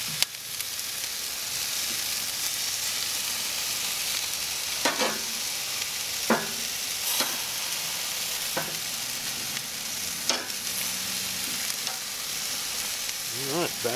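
Butterflied chicken drumsticks sizzle steadily on a King Griller Gambler grill, a continuous close frying hiss broken by occasional small pops and clicks, with no talking.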